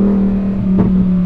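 A Lamborghini Huracan Tecnica's 632bhp V10 supercar engine holds a steady, loud drone with a brief swell in revs near the end, close and continuous with no voices.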